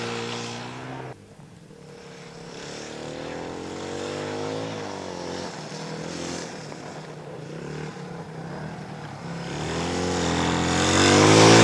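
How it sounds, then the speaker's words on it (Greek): Suzuki DR 250 motorcycle in the Attiko Rally Raid 2006, its engine note climbing and swelling from mid-distance to loud and close as it passes, no voices. "Άλλος ένας που μας χαιρετά είναι ο Κώστας Δροσόπουλος με ένα Suzuki DR 250."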